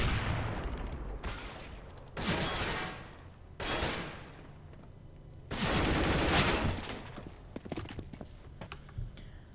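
Bursts of gunfire in a video game demo, several loud volleys separated by short gaps, with sharp cracks scattered through the quieter stretches.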